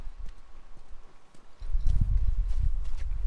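Horse hooves clip-clopping on the ground nearby, soft at first and then louder and steadier, with a low rumble under the irregular steps.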